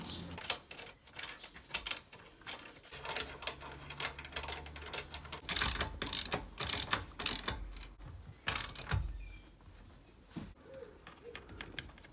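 Metal bolts being tightened back into place on a touring caravan, heard as bursts of ratcheting clicks and mechanical rattling that come and go, with a few heavier clunks and quiet pauses in between.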